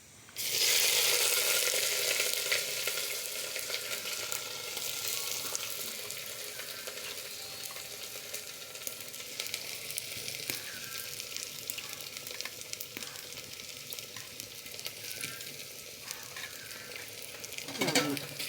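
Crushed ginger and green chili for tomato rasam hit hot oil in a pan with a sudden loud sizzle. The frying crackles on steadily under occasional stirring scrapes.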